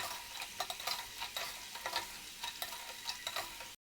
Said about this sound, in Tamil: அதனால் மீடியம் ஃப்ளேமில் வச்சு ஃப்ரை பண்ணணும்